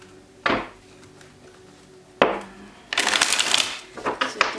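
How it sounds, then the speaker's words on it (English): Tarot cards are shuffled close up in three bursts: two short sharp riffles, then a longer, louder flurry of snapping cards that trails off at the end. "So you can still see me shuffling the cards."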